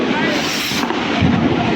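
Dense, rumbling blasts of New Year firecrackers bursting close by, around the feet, in Nuremberg, Germany, a steady barrage with a few voices faintly mixed in.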